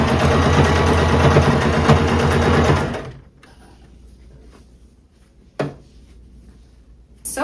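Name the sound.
sewing machine straight stitching fabric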